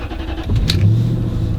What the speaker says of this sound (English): The V8 comes to life.